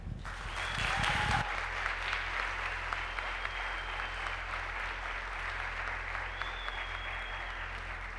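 A conference audience gives sustained applause after a speaker's closing thanks, dense even clapping that carries on for several seconds with a brief louder burst near the start.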